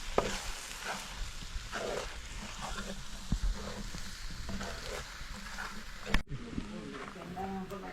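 Pepper powder and spices frying on low flame in a pan for a Kerala beef curry, a steady close sizzle with stirring scrapes throughout and a brief clatter near the end.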